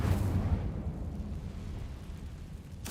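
Incendio fire spell cast in the video game Hogwarts Legacy, a deep rumbling burst of flame that starts loud and rolls on as a sustained low roar for a few seconds, with a brief bright crackle at the end.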